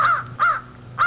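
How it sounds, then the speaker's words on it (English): Hungry crows give three loud, harsh caws, close and clear with short gaps between them. They are part of a radio drama of The War of the Worlds, with the birds pecking at dead Martian bodies. No voices are heard. "there before my eyes, stark and silent, lay the Martians with the hungry birds pecking and tearing brown shreds of flesh"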